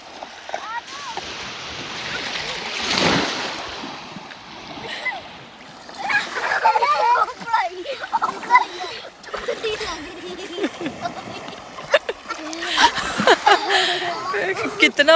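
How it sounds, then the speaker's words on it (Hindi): Children slap their hands into water in a forest setting, producing scattered splashes, with one loud burst early and more bursts later, while an adult voice talks through much of it. "चलो आप दोनों ऐसे पानी में हाथ मारो"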